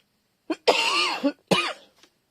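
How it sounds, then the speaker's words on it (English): A few close, hoarse coughs in quick succession, with a longer raspy one between short bursts, in an otherwise quiet room. "I want to cough."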